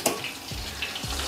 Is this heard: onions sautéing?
yes